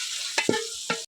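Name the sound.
chicken meat frying and stirred with onions in oil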